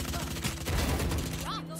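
Gunfire in the tactical shooter game Valorant, a quick burst of several sharp shots followed by a brief whooshing ability sound, with a voice briefly present underneath.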